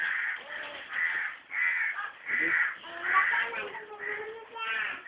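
Crows caw repeatedly while being fed, a series of harsh, rhythmic caws in quick bursts, loud and close.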